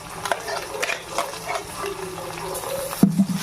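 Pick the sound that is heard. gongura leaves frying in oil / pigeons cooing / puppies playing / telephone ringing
gongura leaves frying in oil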